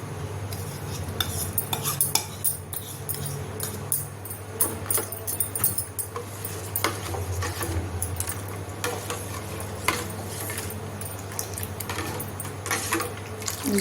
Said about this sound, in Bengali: এই যে ভালো করে গুলে রেখেছি।